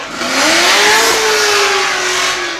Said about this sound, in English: And this car is really an assault on the senses. The sound that comes out of the exhaust is incredible